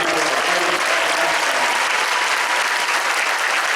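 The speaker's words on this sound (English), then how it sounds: "Can we give them a round of applause" Sustained, loud audience applause fills a convention panel at San Diego Comic-Con, a dense even wash of clapping from a large crowd that holds steady throughout without pause.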